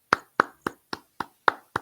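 Seven evenly spaced, crisp hand claps ring out one at a time at a steady rhythm, close and moderately loud with silence between each.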